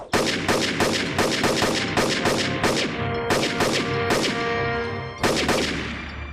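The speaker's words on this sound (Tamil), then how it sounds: "அந்த துப்பாக்கி சத்தம்" Rapid bursts of loud cartoon gunfire crack in quick succession, a steady volley of shots with a few brief gaps, close and intense.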